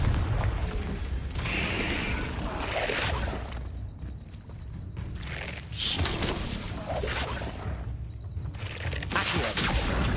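A Confringo fire spell blast in Hogwarts Legacy, heard as repeated booming bursts over a steady rumbling game backdrop, with a brief spoken line.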